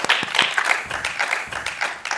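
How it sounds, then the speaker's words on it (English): An audience at a smart port challenge grand final gives a round of applause: a short, steady burst of many hands clapping together, loud and close throughout. "Round of applause, please, to C rounds."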